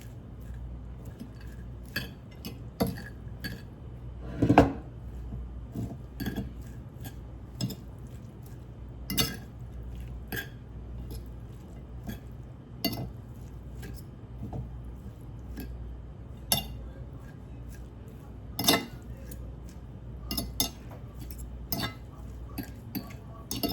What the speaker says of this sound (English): now we're gonna use 2 forks. And we're gonna mix this together.